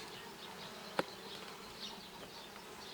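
Honey bees buzzing around an open beehive during a hive inspection, a steady soft drone throughout with one brief sharp click near the start.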